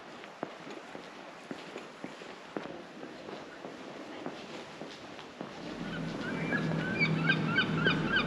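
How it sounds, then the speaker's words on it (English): Sharp cracks and pops sound at intervals, then a flock of seagulls starts calling at night aboard a ferry, their shrill cries growing louder and busier toward the end. "Oh, the seagulls are still awake."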